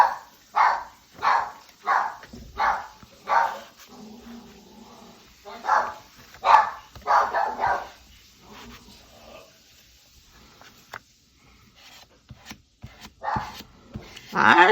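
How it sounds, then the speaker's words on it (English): A dog barks at a man in a home, giving about a dozen loud, evenly spaced barks close by, then a quieter stretch with faint rustling before two more sharp barks at the end. "ignore the dog barking at the husband"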